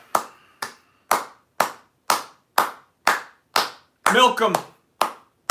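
A single person claps about a dozen times in a steady rhythm during a Saturday Q&A livestream, the claps close and distinct, with one brief burst of voice breaking in near the middle.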